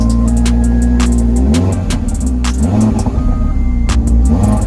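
A 2022 Audi RS3 8Y's 2.5-litre TFSI turbo five-cylinder engine revs hard and close during a launch-control run, climbing in pitch several times with brief dips between gear changes.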